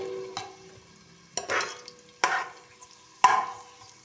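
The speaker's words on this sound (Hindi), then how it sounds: "अब इसमें शामिल करेंगे प्याज, ठीक है ना। ये प्याज इसमें फ्राई करें।" Onions stirred into a couple of spoonfuls of hot oil for an aloo baingan dish, four distinct bursts of sizzling scrapes spaced about a second apart against a quiet background, close up, with no talking.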